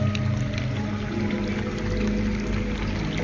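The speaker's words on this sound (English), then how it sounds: "I can hear the real water running in front of me." Water runs at a Japanese-themed attraction in a steady, continuous close rush, with a constant musical tone underneath.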